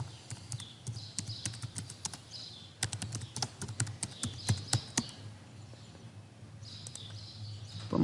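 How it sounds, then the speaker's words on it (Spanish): Quick clicks of fingers typing on a computer keyboard come in uneven bursts, close by, with a short pause partway through. Faint bird chirps sound in the background. "la información va a ser digitada del teclado"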